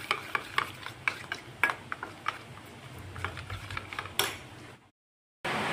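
A spoon stirs turmeric powder into a little water for a home chicken curry, making a run of quick, close scraping and clinking strokes, then it goes silent near the end.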